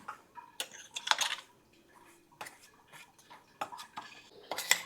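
A utensil scrapes and clinks against a bowl while mixing carrot and cauliflower pickle, in irregular bursts of stirring, close and fairly quiet, with short pauses between strokes.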